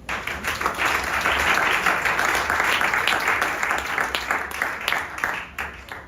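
A church congregation at a sermon breaks into sustained, dense applause that swells and then gradually thins, loud and filling the room.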